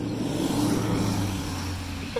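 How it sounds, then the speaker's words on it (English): A car drives past on a normally quiet road, a steady low engine and tire rumble filling the whole short stretch at fairly close range, with no talk over it. "Another car."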